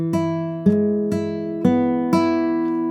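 Five plucked notes ring out one after another on a Spanish-style guitar, played with thumb and index finger as a slow, clear arpeggio, each note sustaining under the next with no voice.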